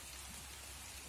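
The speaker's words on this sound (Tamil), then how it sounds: "வந்து விட்டது, மழை வருது." Rain falls steadily in a village setting where eggs are being cooked outdoors, a dense even hiss of drops at moderate level with no voices.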